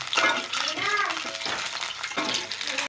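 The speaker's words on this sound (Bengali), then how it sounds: "এখন আমি প্রথমে কড়াইয়ে তেল ঢেলে দিলাম ডিমগুলো ভাজার জন্য।" Eggs frying lightly in oil in a wok make a soft, steady sizzle with a faint crackle, fairly quiet and close, and brief voice-like sounds surface over it.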